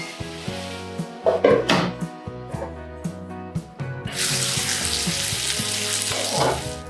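Masala gravy for a spicy dried anchovy thokku sautés on a low flame in a covered pan. Soft clinks and kitchen sounds come first, then a steady, moderately loud sizzle takes over for the last few seconds.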